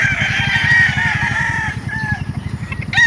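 Gamefowl roosters at an outdoor chicken market in Calauan crow loudly and close by, one long crow overlapping another, over a steady background of clucking and pulsing crowd and engine noise.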